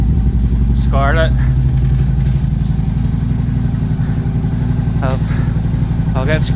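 An old motorcycle sits idling on a first ride of the year, its engine rumbling steadily and close by while warming up, with a person talking briefly over the constant throb.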